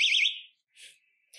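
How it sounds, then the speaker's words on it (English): A pulled personal safety alarm sounds a piercing, warbling high electronic siren, loud at first and then cutting off, followed by short softer hissy bursts. "This is a safety alarm. If you're feeling scared, pull it like this."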